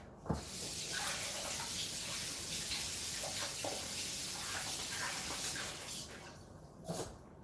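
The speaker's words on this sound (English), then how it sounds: "I have to rinse this off" An item is rinsed under a running kitchen tap, giving a steady close rush of water with a few splashy surges and brief knocks, and no clear talk.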